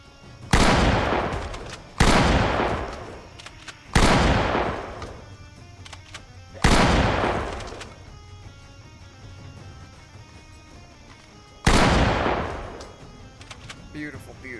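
Loud gunshots ring out in the Project Zomboid video game as zombies are shot, five heavy booms spaced a few seconds apart, each with a long decaying echo, and a voice talks lightly in between.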